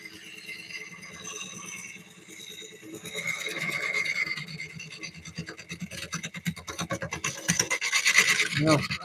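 Lathe gouge making a push cut into a wooden bowl during woodturning, a steady close scraping rasp that swells and pulses in rapid ridges, growing louder and choppier toward the end.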